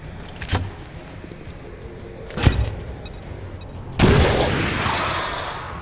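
A frag grenade goes off in XCOM: Long War of the Chosen with a loud, close, broadband blast that rolls off into a long rumbling decay. A couple of sharp gunshot-like cracks come just before it.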